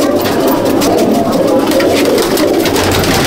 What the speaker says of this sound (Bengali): একটা আমলুক পায়রা দেখাচ্ছি